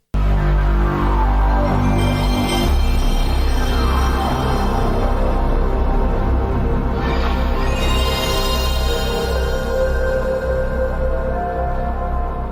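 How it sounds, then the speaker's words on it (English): The original PlayStation console startup sound plays alone. It is a loud, sustained synthesized swell with shimmering high tones and a deep rumbling bass that lasts throughout. "Even the game startup music."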